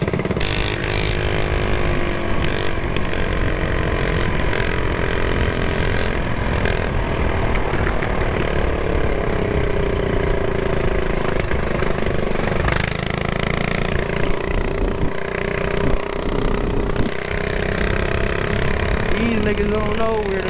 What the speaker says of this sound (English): My bike sound like a pea shooter looking